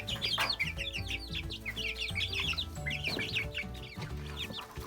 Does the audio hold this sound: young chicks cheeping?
yes